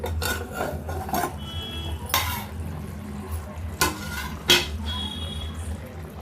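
Egg curry stirred carefully in a pan with a ladle: scraping, clinking strokes of metal against the pan at an irregular pace over a low background simmer, close and fairly quiet, with no voices.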